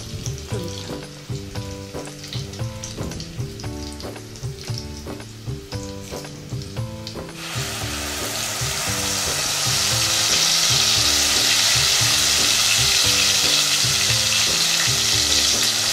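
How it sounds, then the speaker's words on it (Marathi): Green masala paste with garlic tempering sautéing in a pan, with stirring clinks at first, then a loud, steady sizzle that swells and fills the second half, no voices. "वाटण परतावं लागेल"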